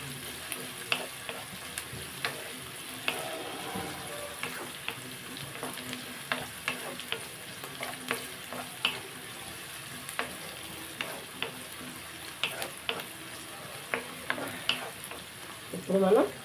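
Ground gongura leaf paste frying in oil in a pan, with repeated spoon scrapes and stirring clicks over a soft, steady sizzle, a louder clatter at the very end.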